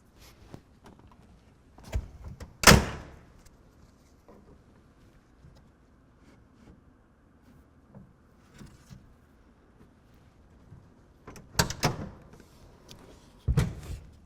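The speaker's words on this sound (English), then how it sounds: "We're going to close the tailgate" A pickup truck tailgate fitted with a retractable tonneau cover swings shut with one sharp, loud slam near the start, followed by quieter clunks and handling knocks later on, with no talk.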